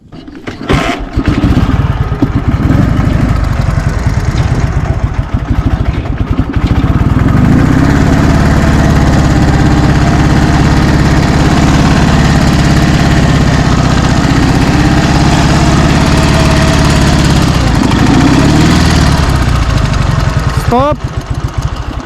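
Dnepr MT 11 and Minsk 125 motorcycles churn through deep mud, their engines roaring loud and close for the whole stretch, revving up and straining with wavering pitch before easing off near the end.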